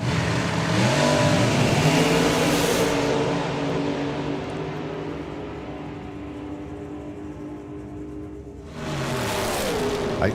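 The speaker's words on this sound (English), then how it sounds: "He'll be going first, and it'll be Phil O'Brien that will be doing the chasing. 768 for that 68 Camaro" A 1968 Chevrolet Camaro drag car at a drag strip event, engine roaring loudly and steadily with strong low harmonics. The pitch sweeps during the run, the sound drops back at mid-clip and then swells again near the end, with no talk.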